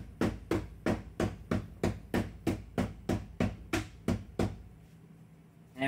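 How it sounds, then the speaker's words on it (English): Hammer repeatedly striking exposed Romex electrical cable, a rapid run of about fifteen sharp, loud blows at a steady pace, then stopping, with no voices. "Hammer didn't really do too much, did a little damage to the sheathing."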